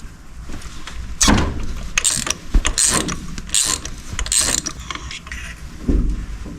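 Socket ratchet loosening a spark plug on a Toyota Corolla, giving a series of close, uneven bursts of clicking ratchet strokes with short pauses between pulls.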